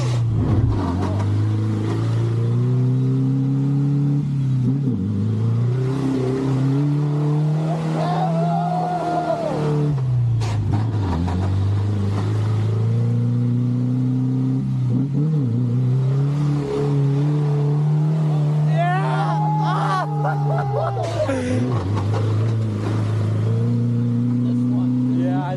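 A Ford Ranger pickup revs hard off-road in mud, its engine surging and falling in repeated loud waves. Excited voices shout over the roaring motor.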